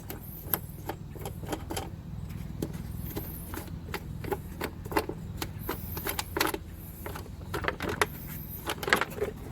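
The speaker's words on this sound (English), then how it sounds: "we're going to take the air filter off. So let's get these 4 screws, nuts, whatever you want to call them" Screws and nuts are worked loose from the air filter cover of a Husqvarna mower with a Briggs and Stratton V-twin, giving a string of faint, close metallic clicks, taps and rattles with no talking.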